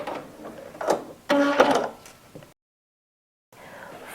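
A sewing machine stitches a fabric headband in short runs, a whirring mechanical buzz that starts and stops, with a louder burst in the middle before the sound cuts out to silence and briefly resumes.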